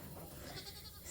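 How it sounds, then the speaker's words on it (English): Goats on a family farm give a brief, muffled bleat over noisy outdoor background. The call is faint and short, and no one is talking. "We got 15 new goats"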